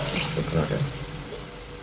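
Water pours steadily into a pot of country chicken curry with a continuous splashing rush, close by, fading slightly toward the end; no talking.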